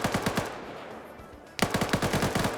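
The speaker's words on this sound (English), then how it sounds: "Starts mag dumping the cache." Rapid automatic gunfire in a PvP shooter game empties a whole magazine in two sustained bursts of evenly spaced shots, fairly close and crisp, separated by a short pause.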